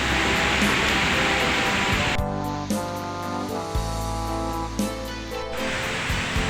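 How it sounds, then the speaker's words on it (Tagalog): The rocky Tubuan river in New Bataan, flowing noisily over stones, a loud continuous rushing hiss that is briefly interrupted midway by steady tonal hum and then returns. "maingay ang ilog na ito kasi mabato siya"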